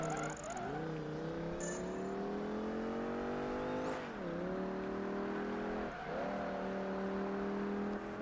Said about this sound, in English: It sounds kind of like a Viper to me.